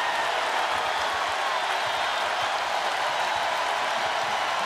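A big arena crowd at an Iowa versus Indiana women's basketball game keeps up a steady, dense roar, cheering without a break.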